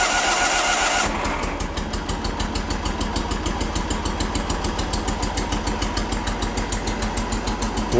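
A Case tractor engine turns over and catches on one cylinder, settling into a loud, regular chugging beat with evenly spaced pulses, close by and without voices.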